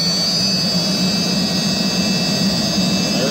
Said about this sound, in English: it works really well for that, for controlling the speed of the blower